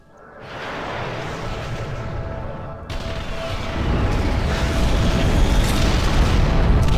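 Bombers strike the hacked Nexus in the strategy game Ashes of the Singularity: Escalation, a sustained roar of booming explosions that swells louder partway through and rumbles on continuously, with no talking.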